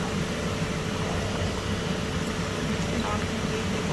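Marinated chicken pieces frying in hot oil, a steady dense sizzling hiss that holds evenly throughout, close and fairly loud with no talking.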